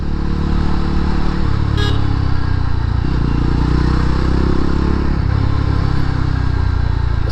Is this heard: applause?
no